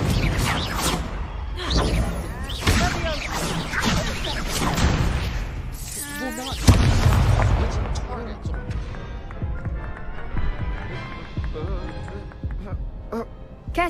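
Spell combat in Hogwarts Legacy on PS5, with Confringo blasting spells going off amid Levioso casts: loud bursts, whooshes and impacts cluster in the first half, then fade into quieter crackles, while a player shouts over the action.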